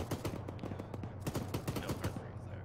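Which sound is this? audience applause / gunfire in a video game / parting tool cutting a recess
gunfire in a video game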